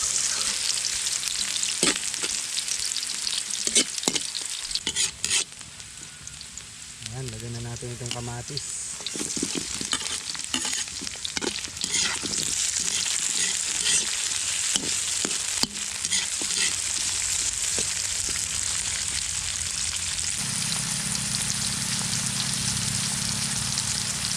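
Onion and garlic sizzle and fry in a pan at the start of a corned beef sinigang, with steady crackling and repeated scraping stirs of a utensil, loud and close throughout.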